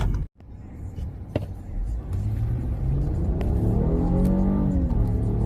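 A car on lightweight wheels launching for a 0-60 run, engine revving up and rising in pitch after a brief dip, loud and close, with a strong rumble building steadily.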